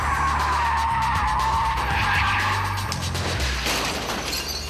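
Car skidding hard during a stunt drive, a sustained loud tyre screech with engine drone underneath, wavering in pitch across the whole stretch with no voices.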